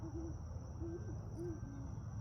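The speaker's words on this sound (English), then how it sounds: "Owls" An owl hoots at night, giving four soft, low calls spaced about half a second apart over a steady background hum, with no voices.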